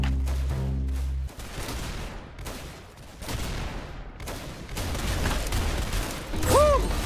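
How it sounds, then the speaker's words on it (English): Gunfire in the Roblox-style shooter game Arsenal: repeated bursts and rapid volleys with mechanical clanks, loud and continuous, ending with a whooping voice. "That's some beautiful shooting right there."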